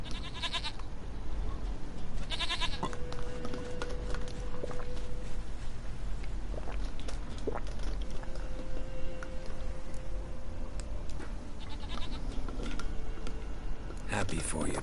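A goat from The Witcher 3: Wild Hunt bleats a few times, sustained wavering calls amid game ambience with faint hoof-like clops, while speech comes and goes.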